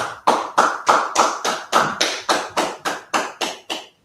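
At a class, a group claps in unison in a slow, steady rhythm, about thirteen loud, evenly spaced claps close by, with no talking.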